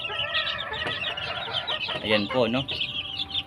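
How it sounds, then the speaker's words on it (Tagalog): Young early bird chicks in their first batch, likely in a brooder, give bright high peeping and chirping that runs steadily throughout, with a louder clustered burst of calls near the end and a brief voice speaking over them. "So ito na po yung aking first batch ng mga sisiw po early bird po."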